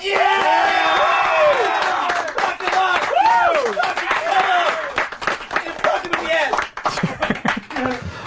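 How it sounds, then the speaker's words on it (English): Studio audience on a satellite radio talk show claps and cheers in a quick vote for a contestant, a short burst of applause mixed with whoops and hosts' voices talking over and after it. "let's just go by applause"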